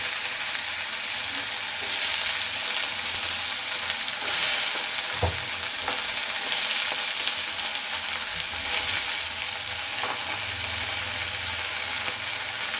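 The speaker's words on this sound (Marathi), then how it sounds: "आणि हा बटाटा आहे ना तर तेलामध्ये छान परतून घ्यायचं" Diced potatoes sautéing in hot oil in a pan with curry leaves, coriander and turmeric for a dry potato dish, a steady close sizzle throughout with occasional soft scrapes of stirring.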